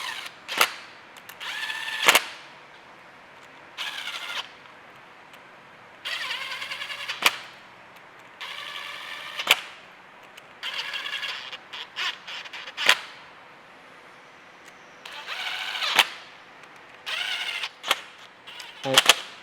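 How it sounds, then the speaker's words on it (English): An impact wrench hammers camshaft bolts tight on a Kia/Hyundai V6 during timing chain assembly. About a dozen short, sharp rattling bursts are separated by quiet gaps in a workshop. "Again, I'm just using my impact for speed."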